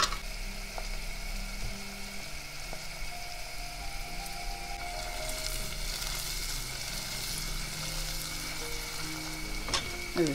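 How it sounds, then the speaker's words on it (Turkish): Food sizzles and crackles steadily in a hot pan, a soft continuous frying hiss with occasional clinks of a utensil. "Evet, çok güzel soteleniyor."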